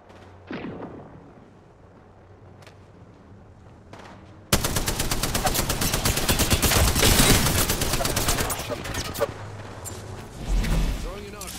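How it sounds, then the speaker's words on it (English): Smart bullet gunfire in Apex Legends: a dense, loud burst of rapid rounds that cuts in suddenly and runs for several seconds, with sparse talk before it. "Firing a smart bullet."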